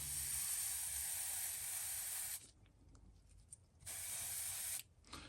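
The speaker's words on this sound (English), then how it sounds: "I think something's in that nozzle because it ain't wanting to spray right." A paint spray gun with a partly clogged nozzle hisses out candy brown paint onto a fishing lure in two steady bursts, separated by a quiet pause, then a short final puff.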